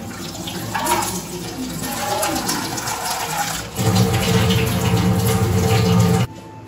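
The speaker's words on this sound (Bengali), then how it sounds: "চালগুলো দিয়ে দিলাম আর জল দেবো এবার।" Water pouring into a pot of washed rice, a steady rushing splash that grows fuller and louder partway through before stopping abruptly near the end.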